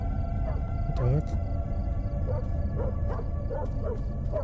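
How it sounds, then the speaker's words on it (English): A dog barking repeatedly in the Fears to Fathom horror game, Carson House chapter, with short yelping barks at irregular intervals over a steady droning background, moderately close. "What are you barking at, boy?"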